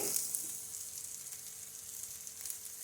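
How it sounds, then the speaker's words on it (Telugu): Onions frying in a pan for semiya upma give a steady, faint, hissing sizzle that runs unbroken throughout. "ఈ ఉల్లిగడ్డలు వేగినాయండి"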